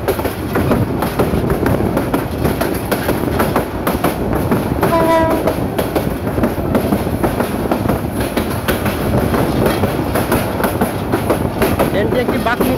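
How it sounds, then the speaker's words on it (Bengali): A train rolls steadily around a curve, a continuous loud rumble with rhythmic clatter of wheels over rail joints, and a brief horn-like tone rises midway. "ট্রেনটি একটি বাঁক নিচ্ছে, বাঁক নিয়ে সামনের দিকে গিয়ে চলছে"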